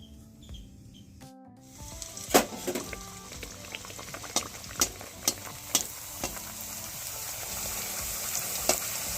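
Rava poori deep-frying in hot oil, a soft steady sizzle and bubbling after a quiet start, dotted with sharper crackles and spatters as the dough puffs in the pan.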